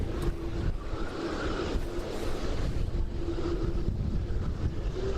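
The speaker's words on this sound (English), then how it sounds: "those howling winds that we've been talking about, that whistling noise that is just so eerie" Hurricane Irma winds howl and whistle steadily near a rocking boat, a continuous roar with faint high whistling tones running through it and no talk over it.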